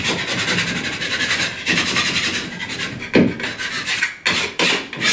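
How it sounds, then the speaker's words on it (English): A scraper or joint knife scrapes loose edges around a drywall wall patch, making a continuous close, loud rasping scrape with a few sharper strokes and no voices. "grab a little scraper or a joint knife, clean off any of these edges"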